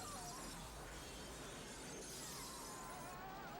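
Breakaway fake glass shattering during a film stunt in an action sequence, a dense crashing spray of breaking and tinkling that fills the whole stretch loudly, with no talk.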